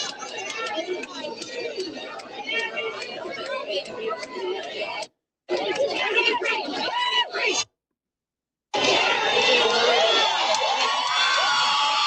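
A large crowd cheers and shouts at an outdoor verdict-day gathering, loud and sustained with whoops and chatter, broken by two short silent gaps.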